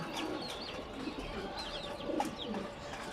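A racing pigeon coos softly and repeatedly at close range, with low rolling calls against a steady background hum and faint chirps.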